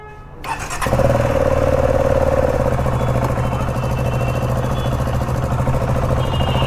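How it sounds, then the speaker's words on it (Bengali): A modified Yamaha R15 motorcycle with a full-system exhaust cranks and catches within the first second, then settles into a loud, steady idle close by with no one talking. "সো গাইস, বাইক স্টার্ট দেওয়া হয়ে গেছে"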